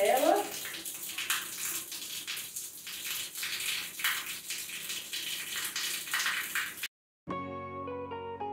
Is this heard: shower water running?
yes